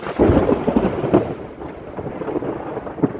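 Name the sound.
thunder from an intense storm over a garden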